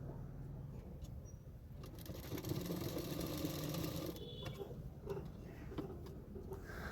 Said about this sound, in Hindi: दोनों शोल्डर को मैंने 1/2 इंच मार्जिन रखकर सिलाई कर रही हूँ